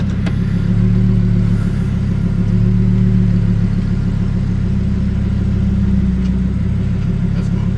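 An off-road Lamborghini rolls along with its engine rumbling low and steady close by, a continuous deep drone with faint tire noise.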